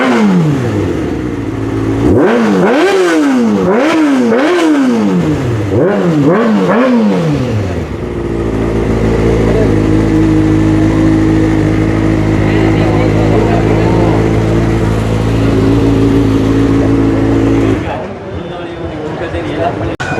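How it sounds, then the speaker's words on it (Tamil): A Kawasaki Ninja motorcycle at an exhibition in Jaffna starts and revs in several rising and falling bursts, then settles into a steady loud idle that cuts off near the end, with crowd chatter around it. "கௌசக்கி நிஞ்சா பைக் ஸ்டார்ட் பண்ணி"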